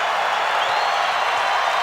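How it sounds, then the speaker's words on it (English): Basketball arena crowd during a 1992 Bullets vs Bulls game, a dense, sustained roar of cheering and noise filling the space evenly and loudly. "And the crowd starts to make some noise"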